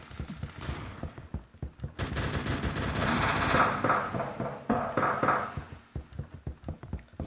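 Assault rifle gunfire in the Roblox game Phantom Forces: rapid bursts of shots, first as separate cracks, then a dense sustained stream in the middle, and a final run of distinct rhythmic shots, loud and close, with no speech.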